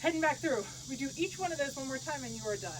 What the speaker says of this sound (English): I think it's like some kind of an insect.